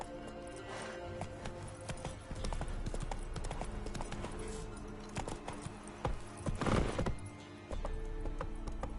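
The horse Roach gallops in a video game, a rapid rhythmic clip-clop of hooves running steadily and close, with a short surge of heavier hoof noise near the end.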